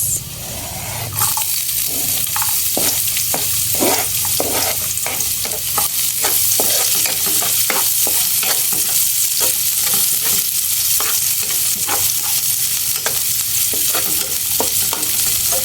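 Garlic and onion frying in a pan for chicken pastil, a loud, dense, continuous sizzle with rapid spatula strokes scraping the pan close up throughout.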